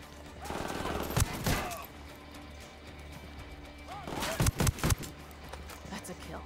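Gunfire in the Ghost Recon Wildlands video game: a couple of sharp bursts of shots, one early and a tighter cluster later, over a low steady background hum with voices talking.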